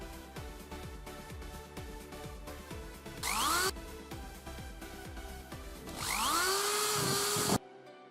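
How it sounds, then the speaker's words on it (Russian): Angle grinder fitted with an ordinary metal-cutting disc slicing through used chipboard: repeated rhythmic tool bursts, then two loud, close, sustained cutting passes with a rising whine, the second running about a second and a half before stopping. "Разрезать ДСП удобнее всего болгаркой, обыкновенным кругом по металлу."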